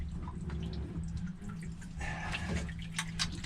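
Water drips from a leaky stuffing box into a boat's bilge, with scattered close drips and trickles over a low steady hum.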